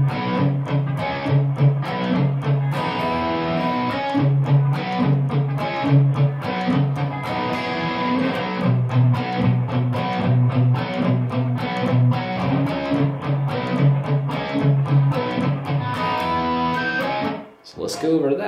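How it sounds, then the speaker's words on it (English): Distorted electric guitar power chords built around D5 and C5 from a song's final verse, chugging rhythmically and loud for the full stretch before a brief dip near the end. "we're still working around that D5 and C5, but we've got a whole different way we're playing that this time."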